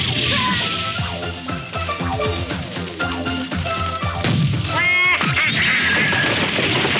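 Heavy booming cannon blasts crash through loud, busy orchestral music in a cartoon kitchen scene, with a voice briefly shouting amid the commotion.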